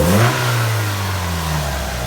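A car engine revs up and settles at a steady, loud running speed, its low hum falling slightly in pitch after an early surge; no one talks.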